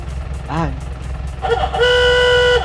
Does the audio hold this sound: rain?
no